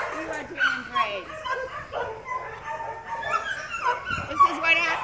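A dog whimpers and gives high yips and barks close by, the whines and yelps scattered over several seconds while a person talks over them.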